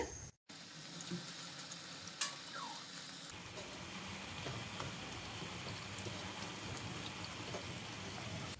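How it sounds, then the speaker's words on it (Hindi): Crispy karanji pastries deep frying in oil give a soft, even sizzle that stays faint and distant, with a few light clinks and a fuller bubbling hiss in the second half. "गोल्डन कलर आने तक हम फ्राई कर लेंगे।"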